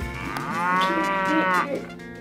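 A small child imitates a cow with one long, drawn-out vocal moo, close and fairly loud, with a rising then falling pitch and no other talk.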